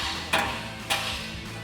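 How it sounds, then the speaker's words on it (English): Two sharp metallic hammer blows land on a steering knuckle to break a ball joint free during front CV axle work on a 4Runner, the raps about half a second apart over a steady background hum. "we're gonna take a hammer and strike the knuckle here to break our ball joint free"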